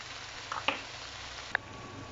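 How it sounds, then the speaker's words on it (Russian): Puffball mushrooms fry in a pan, giving a quiet, steady sizzling hiss broken by a couple of small pops and clicks. "Гриб вроде большой, но жаривается и все, полезло на одну сковородочку. Сейчас жарим, парим."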